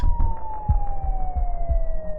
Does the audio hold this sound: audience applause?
no